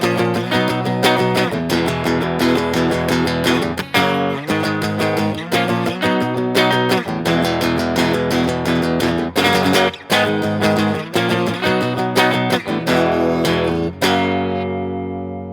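An electric guitar strums a steady chord progression with a distorted, sustained tone, changing chords every couple of seconds and ringing out at the end.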